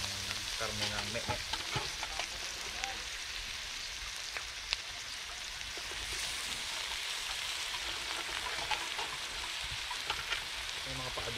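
Onion, garlic and meat fry in a pan with a steady low sizzle and crackle, scattered sharp pops throughout, fairly quiet and continuous with no talking.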